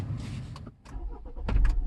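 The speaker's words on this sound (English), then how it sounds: "Now you can start the engine." A Renault Espace with automatic transmission starts its engine: a short crank followed by the idle catching, fairly quiet and close, with no talk.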